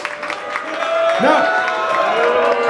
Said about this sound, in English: I hear more applause than booze.